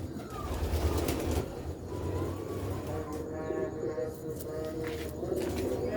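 Pigeons on a rooftop loft coo softly and repeatedly against a background of outdoor ambience, with a few chirps and a voice talking briefly.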